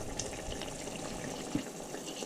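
Water trickling and splashing into a small dish of cornstarch, about a teaspoon and a half, to mix a slurry; a steady close pour with a soft splash near the end.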